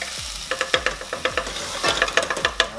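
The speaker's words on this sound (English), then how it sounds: "We don't want to burn the garlic. We don't want to burn the ginger. So we want to keep it stirring, keep it moving" Garlic and ginger stirred constantly in a very hot pan for loco moco: a quick series of spatula scrapes and knocks over a soft, continuous sizzle, close and fairly loud, with no voices.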